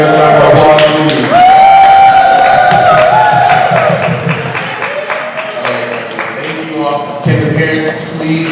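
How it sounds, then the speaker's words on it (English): Graduation ceremony audience applauding and cheering loudly throughout, a dense crowd wash of clapping with whoops and a sustained raised voice over it. "Can we give a round of applause, please?"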